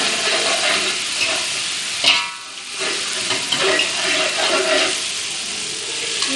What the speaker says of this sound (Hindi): ये अपना गोश्त भी मैं इसमें शामिल कर रही हूँ। इसे 1 मिनट भूनेंगे।